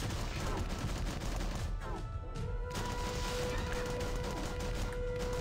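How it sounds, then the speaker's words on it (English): Rockets firing in the video game Tiny Troopers Joint Ops XL, a dense, continuous barrage of explosive game combat noise with a sharper burst partway through. "We'll hit them with the rockets."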